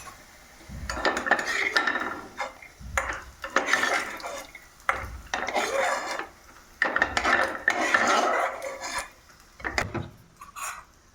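A metal spoon scrapes and scoops fried peanuts out of a pan, giving repeated clattering bursts of metal on cookware with short pauses between scoops, close and fairly loud.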